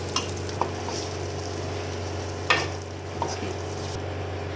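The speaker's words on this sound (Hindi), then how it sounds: "अब हम इसको जो है वो मिक्स करेंगे और जितने भी मसाले हैं ना अब हम इसमें शामिल करेंगे।" A spoon stirs fried chicken and spices in a pot for Shahi Haleem, giving a low steady sizzle broken by a few sharp scrapes and clinks of metal against the pot.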